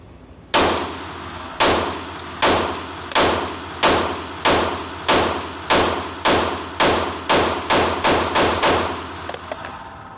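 Rapid-fire shots from a Hellcat Pro Comp pistol, about fourteen sharp loud cracks in quick succession, each with a short ringing decay, alone without talk.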